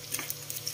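Mustard seeds frying in a hot pan, a close, steady sizzle with quick crackling pops scattered through a short burst, no voices.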